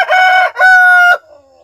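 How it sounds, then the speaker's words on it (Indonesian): A rooster on a family's forest homestead crows loudly and close by, one long two-part cock-a-doodle-doo, followed by a short soft cluck. "Tuh ayam tertua di keluarga itu teman."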